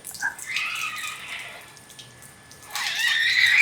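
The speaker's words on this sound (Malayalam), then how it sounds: "മോപ്പിനകത്തൂടെ വെള്ളം വരുന്നത് കൊണ്ട് ഒരിക്കലും സ്ക്രാച്ച് ആവുകയില്ല" Water gurgles and sprays through a Joy's smart mop as it is pushed over a car's bodywork, a soft hissing wash that swells, dips and then grows louder again, with no talking.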